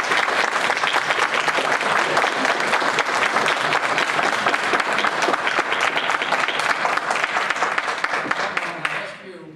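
An audience at a Duke Energy rate hike hearing in Charlotte breaks into loud, dense clapping that holds steady for several seconds before tapering off abruptly at the end.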